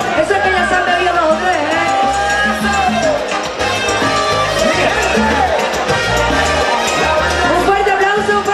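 A packed carnival tent crowd at the 2015 Zalamea de la Serena carnival roars in a loud, sustained shout, many voices blending with cheering and background music throughout.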